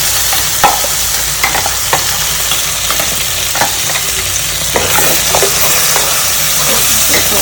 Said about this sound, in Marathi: त्यानंतर आपण केलेले वाटण टाकून घेऊन परतून घेऊया चांगले.